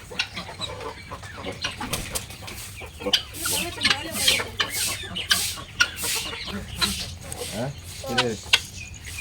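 Chickens cluck repeatedly around a home farm, a busy close flock with irregular sharp calls, over a faint background hum of insects and occasional quiet voices.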